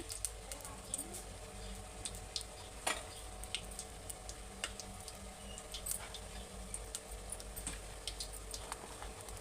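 Whole spices such as shahjeera and cloves fry gently in a little oil for mutton curry, giving a soft, steady sizzle with scattered faint pops and occasional stirring clicks.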